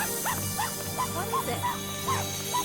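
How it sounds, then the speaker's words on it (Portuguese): A dog in the video game Ni No Kuni barks and yips in short repeated bursts over steady game background music. "Olha o cachorro latindo."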